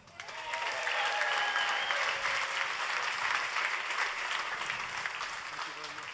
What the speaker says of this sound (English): And please, a big applause for the fastest man on the road,